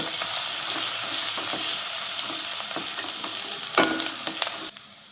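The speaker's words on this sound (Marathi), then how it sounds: "लसूण बारीक केलेला थोडा पटकून घ्यायचं आहे" Chopped chilli and garlic sauté in hot oil in a pan, a steady close sizzle with scattered crackles and stirring scrapes, briefly louder near the end before it drops away.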